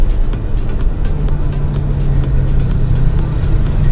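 A car engine pulls in power mode while driving, a loud, steady low rumble with road noise close inside the cabin, with no voices over it.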